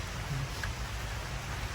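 Heavy rain that has suddenly grown stronger, a steady, dense hiss of downpour with no distinct drops, fairly distant and even throughout.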